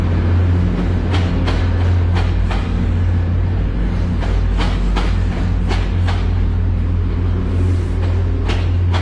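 A commuter rail train passing close by, a loud continuous rumble with regular clacks of wheels over rail joints throughout.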